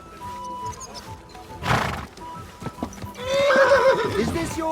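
In the video game Kingdom Come: Deliverance 2, a horse whinnies loudly near the end, after a sharp burst of noise, with faint hoof clatter and low ambient sounds throughout.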